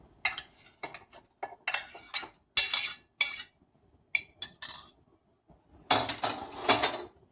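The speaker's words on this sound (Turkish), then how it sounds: "Güzelce karıştırıyoruz." A spoon repeatedly scrapes and clinks against a bowl in irregular bursts while a fig and milk pudding dessert mixture is stirred, close and fairly loud.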